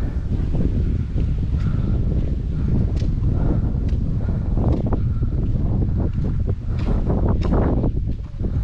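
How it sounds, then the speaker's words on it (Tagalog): Strong wind buffets the microphone with a steady low roar and gusty rustling throughout, no voices heard. "Ang presko ng hangin."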